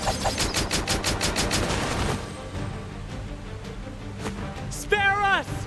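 Rapid burst of gunfire volley in the video game Octopath Traveler, a loud rattling fusillade of repeated shots for about two seconds, followed by quieter rumbling game ambience and a short chiming effect.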